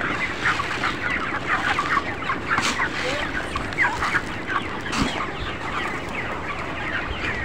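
Broiler chickens on a poultry farm cluck steadily in a dense, overlapping chorus, with many birds calling at once close by and no clear pauses throughout.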